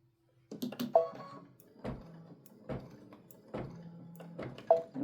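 Embroidery machine starting to stitch an edge-to-edge quilting pattern in a hoop, a series of mechanical thumps and rattling needle strokes with brief whirring tones, irregular and close, with no talking.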